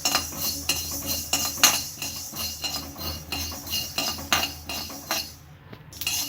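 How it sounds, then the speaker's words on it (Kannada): Half a tablespoon of mustard seeds dry roasting in a pan crackle and tick sharply over a steady scraping, rattling stir, close and fairly loud throughout with no voices. "ಇದು ಕೂಡ ಪಟ ಪಟ ಅಂತ ಸಿಡಿಯೋವರೆಗೆ ಡ್ರೈ ರೋಸ್ಟ್ ಮಾಡ್ಕೋಬೇಕು"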